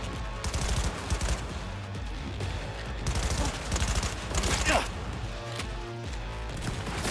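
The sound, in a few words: gunfire in video game Cyberpunk 2077 Phantom Liberty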